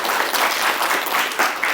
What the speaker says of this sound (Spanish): Por favor, los aplausos para él.